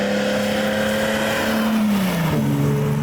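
A Datsun 240Z with an MZR Roadsports Evolution build, its engine droning steadily from inside while driving, the pitch holding and then dropping as it shifts or eases off.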